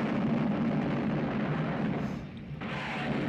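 Heavy rumbling artillery battle noise from the 1970 war film Patton, with deep booms and a sustained roar, loud and continuous, easing briefly before swelling again.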